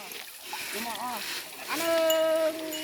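An elephant plays in water, with splashing and sloshing close by while someone talks over it.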